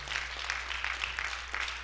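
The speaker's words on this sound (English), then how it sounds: "Come on, clap those hands." Steady congregation clapping fills a church, a dense continuous patter of many hands with a low hum underneath, fairly quiet and distant.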